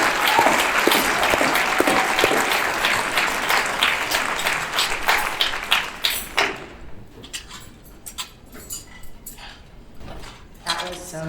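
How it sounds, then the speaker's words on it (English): An event audience breaks into sustained applause, loud and dense for about six seconds before thinning into scattered claps and rustling. "please join me in just an extra round of applause for Daniel personally, just for the grit."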